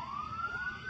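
A siren from an older ambulance in a film wails with a steadily rising pitch, loud and continuous, over a low rumble with no talk.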